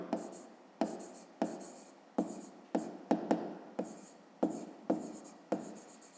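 Pen writing by hand on paper during a fifth-grade maths exercise, a series of short scratchy strokes in an irregular rhythm, close and clear, no voices.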